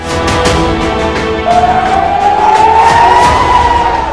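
A siren wails over Jammu during an air raid alert, its rising, drawn-out tone swelling in from the distance over a steady roar of background noise.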